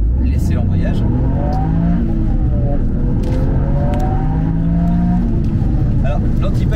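A Toyota GR Yaris Track Pack with an Akrapovič exhaust launching in first gear, its engine note climbing through rising revs loud and close from inside the cabin, with a voice speaking over it.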